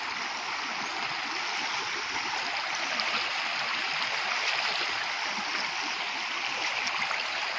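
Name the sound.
flowing stream water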